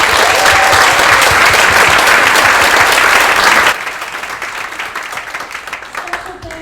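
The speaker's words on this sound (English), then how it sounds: "Please give them a round of applause." Audience applause for sponsors at a 2019 tech and homelessness event: a loud, dense round of clapping that drops abruptly to a lighter, thinning patter partway through.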